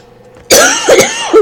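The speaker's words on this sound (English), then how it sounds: "So excuse me if I'm coughing into the microphone." A person coughs hard and close into a microphone, with a harsh rasp and a few rough follow-up hacks after a quiet lead-in.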